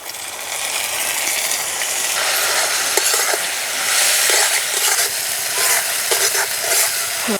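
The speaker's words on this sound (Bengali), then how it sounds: "মশলা একটুখানি নেড়ে নিয়েছি" Spices with salt, turmeric and Kashmiri chilli powder are stirred in a pan with a splash of water, giving a steady loud sizzle and scraping that runs continuously with no talking.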